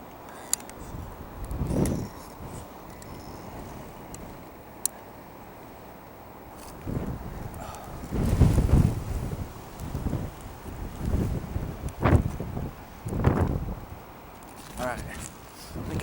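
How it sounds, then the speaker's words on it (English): Strong gusty wind buffets a microphone on a rooftop with storm-damaged shingles, rising and falling in rough surges across the whole stretch, with someone talking briefly in between and occasional small knocks and rustles. "It is breezy up here."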